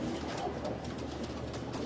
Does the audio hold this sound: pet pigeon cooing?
yes